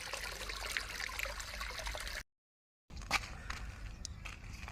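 Water trickling and flowing along a rural irrigation channel, a steady broadband wash broken by a brief silent gap, then resuming with small splashes and bursts.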